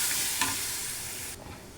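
Spice paste fries in hot oil for a fish roe curry, a steady close sizzle with stirring that runs loud and then abruptly drops to a quieter hiss near the end.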